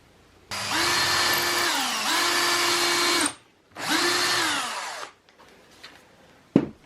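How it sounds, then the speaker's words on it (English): A power drill pre-drills two holes in a wooden French cleat for socket wrenches, with three loud whirring bursts that each spin up and then stop, followed by a quiet pause and a sharp knock. "Now I need to pre-drill my 2 holes in here."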